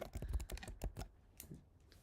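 Rapid keystrokes on a computer keyboard with a few sticky, unresponsive keys, a close burst of clustered clicks that thins out toward the end, no voices.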